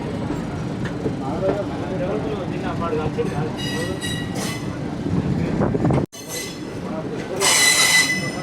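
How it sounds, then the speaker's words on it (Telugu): A passenger train on the Secunderabad to Thiruvananthapuram route pulls out of the station, with rumbling carriages, wheel squeal and metallic clatter that grow louder toward the end, heard close from on board. "ట్రైన్ అయితే స్టార్ట్ అయింది. రైట్ టైంకి అయితే స్టార్ట్ అయింది."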